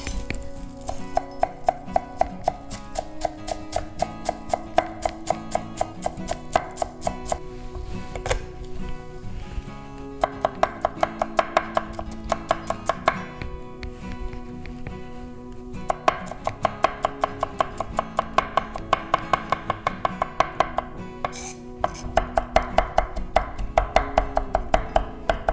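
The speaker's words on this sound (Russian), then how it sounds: "мелко рубим немножко петрушки" Knife finely chopping parsley on a board for a garlic and parsley sauce: rapid, steady close taps in quick bursts with brief pauses, loud and alone with no talk.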